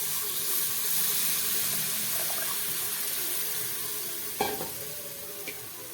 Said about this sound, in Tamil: சேர்த்துட்டு நல்லா கலந்து விட்டுருங்க.